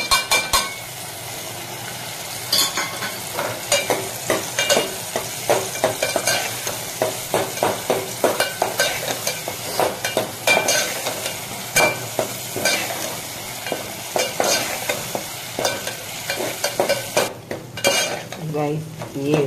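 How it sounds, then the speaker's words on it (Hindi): Minced meat (keema) sizzles and fries in a pan of tomato gravy while a spoon stirs and scrapes against the pot in quick, irregular strokes, fairly close and moderately quiet, with no talking. "और अब मैं इसमें ये कीमा ऐड करूँगी।"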